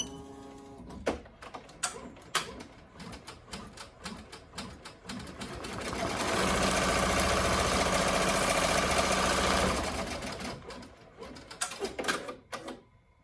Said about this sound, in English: So then you're just going to click start and do the tack down stitch.